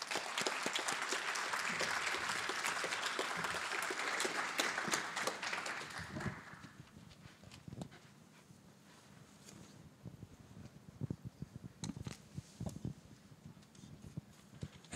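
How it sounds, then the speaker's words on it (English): Dense, loud audience applause at a fireside chat event fills the first six seconds, then drops away to scattered individual claps and faint room noise. "Let's give them a warm round of applause."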